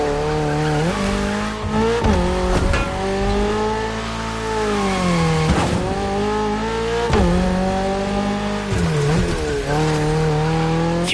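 A naturally aspirated Toyota GR86 races through neon-lit city streets in The Crew Motorfest. Its engine revs loud and close in repeated climbing sweeps, broken by gear shifts, with tire squeal and skids between them and no talk.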